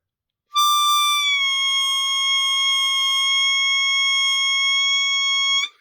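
Harmonica blow bend played tongue-blocked, a single clear reedy note that dips in pitch early, then holds steady and loud for about five seconds alone before stopping.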